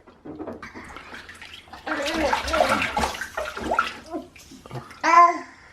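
Baby in a bath making gentle splashing and sloshing water sounds, close and moderate in volume, mixed with babbling and adult talk throughout.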